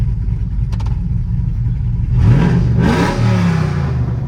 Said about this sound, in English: I'm gonna give it a quick rev for my girl over here at the stop sign, since she wanted me to rev it.